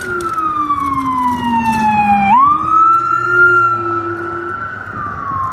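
A loud emergency siren wails steadily, its pitch dipping then sweeping back up as it passes close by amid street traffic on Broadway.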